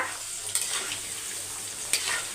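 Coated potato pieces frying in hot oil in a pan give a close, steady sizzle, with two sharp clicks of a utensil against the pan; no one speaks.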